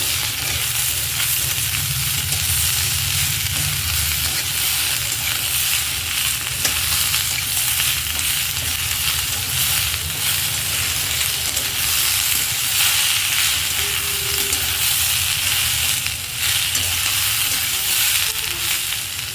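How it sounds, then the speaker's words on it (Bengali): Vegetables with onion and green chilli fry in a pan, a dense, even sizzle that holds steady and loud for the whole stretch, with faint occasional stirring and no voices. "তো দেখুন সবজি খুব ভালোভাবেই ভাজা হচ্ছে"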